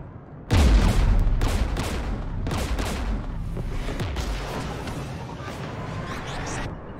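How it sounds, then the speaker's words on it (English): Gunfire during a Geth attack in the Mass Effect video game: a heavy opening boom, then sustained rapid bursts of shots and explosions that roll on loudly without pause. "We're taking fire."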